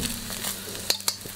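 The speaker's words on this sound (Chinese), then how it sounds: "锅中倒油，油温四成热，下入蛋液，开中小火来煎" Beaten egg fries in oil in a wok over medium-low heat, a steady close sizzling hiss broken near the end by two quick spatula scrapes.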